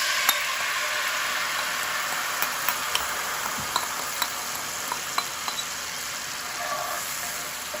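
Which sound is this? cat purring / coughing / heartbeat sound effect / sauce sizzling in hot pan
sauce sizzling in hot pan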